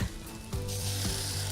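Soft sizzling hiss of bread frying in a hot pan for egg-in-a-hole, steady and close, with a brief scraping sound at the start.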